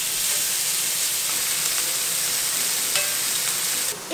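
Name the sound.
chicken fajita ingredients frying in a pan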